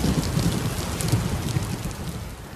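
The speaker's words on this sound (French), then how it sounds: "C'était le signal d'une grosse pluie qui va s'abattre sur toute la capitale." Heavy rain pours steadily over Lomé, Togo, a dense, unbroken hiss of drops on surfaces with a low rumble beneath, close and continuous throughout, with no voices.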